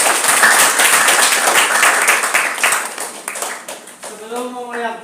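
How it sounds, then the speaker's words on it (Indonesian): Students at a vocational high school marketing class clapping their hands together in a loud, fast round of applause that fades, with a voice talking near the end. "Tepuk tangan semuanya."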